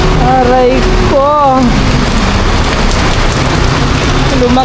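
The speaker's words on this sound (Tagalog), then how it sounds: "Ulan, ulan, malakas na ulan." Heavy rain pours steadily and loudly on surfaces in a rural Philippine yard, a dense continuous hiss, while a person speaks over it.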